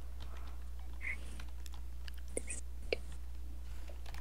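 Soft, scattered clicks of typing on a computer keyboard during a Roblox game session, faint and irregular over a steady low hum, with a few sharper taps.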